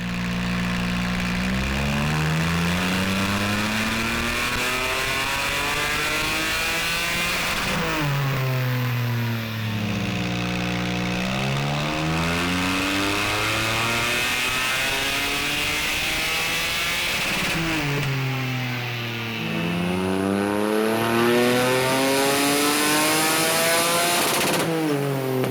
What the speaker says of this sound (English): I'm going to give the car a run